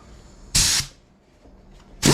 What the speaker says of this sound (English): I'm going to cut this head off this 1/2-inch bolt and make a short stud out of it